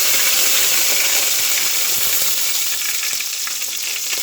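Curry leaves hit hot oil after popping mustard seeds for a roasted-spice chickpea curry, hissing in a loud, continuous sizzle up close, with no one speaking.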